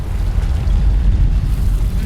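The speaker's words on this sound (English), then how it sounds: "Those explosions exposed some more bloodstones." Heavy explosions rumble through a Guild Wars 2 scene, a dense, continuous low roar with debris-like crackle sustained across the whole stretch, loud and close with no voices.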